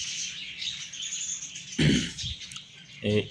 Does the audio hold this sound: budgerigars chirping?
yes